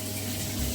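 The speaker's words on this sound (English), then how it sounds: "I'm just going to run the shower for a moment just to ascertain whether that is the case" A shower runs water into a blocked shower tray, giving a steady, close rush of spray and splashing over a low pump-like hum for a brief moment, with no talking.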